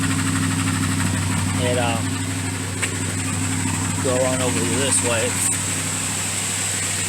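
Engine of an old wagon idling rough and running rich, a steady loud low drone with a faint rhythmic lope, while someone talks over it near the car.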